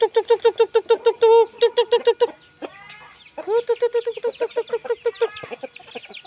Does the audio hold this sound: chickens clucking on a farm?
yes